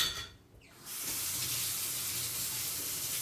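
Hot water gushes from a kitchen tap during crêpe-making: a brief softer trickle, then a loud, steady, hissing rush that continues without any voices.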